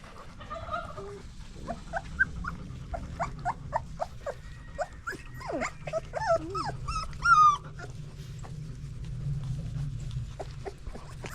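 Several young goat kids whimper and yip in high, thin cries, close by and overlapping, with soft rustling and a brief louder squeal, in extreme heat.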